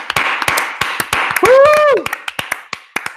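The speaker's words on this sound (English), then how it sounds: "Let's give a round of applause for the play of Kyle." A handful of people clap unevenly at close range during a podcast, separate sharp hand claps in an irregular rhythm, with a voice letting out a brief cheer partway through.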